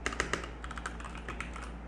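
A Keychron C1 mechanical keyboard typed on up close, with a quick, steady run of crisp key clicks and no voices.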